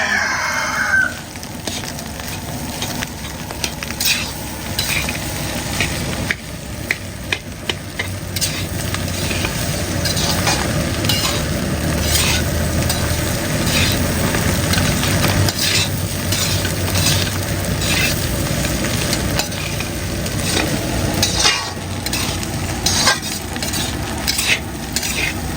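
Egg fried rice with leftover boti curry being stirred in a pan, a steady run of scraping and soft sizzling that fills the whole stretch, with a rooster crowing faintly in the background.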